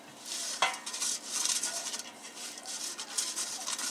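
Pastry brush bristles rubbing grease over a baking pan before making manti, a soft repeated swishing and scraping close by with one sharper tap of the pan, no talking.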